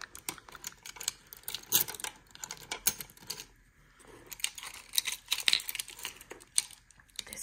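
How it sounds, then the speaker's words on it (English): A set of keys on a keychain with a small Coke bottle charm is handled and tapped up close, producing soft, irregular metallic clicks and jingles throughout. "Here we have some keys."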